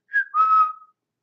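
A person whistles in imitation of a woman's whistle heard in a hallway: two short, close, clear whistled notes, the second held longer and sliding slightly, with no talk during it.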